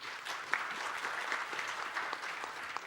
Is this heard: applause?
yes